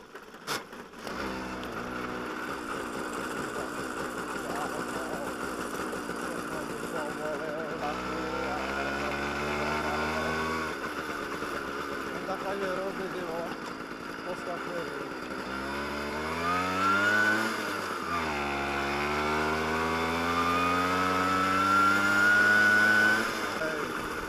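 A small motorbike engine drones close by while being ridden on the way to Smilovice, its pitch climbing and dropping through gear changes and rising to a strained rev near the end, with a voice talking now and then.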